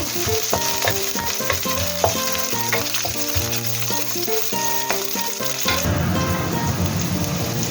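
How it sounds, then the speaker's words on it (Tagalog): Onion and garlic sautéing in hot oil, with a loud continuous sizzle and crackle and brief stirring clatter, no voices over it. "igisa na po natin ang ating sibuyas. Ilagay na po natin natin bawang."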